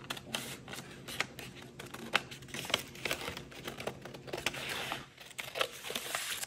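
Paper being cut out by hand for a diamond art craft, with dense crisp snips and crinkling rustles that run continuously up close, no talking.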